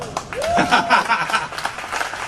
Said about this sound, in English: See, you're clapping before I even say their names.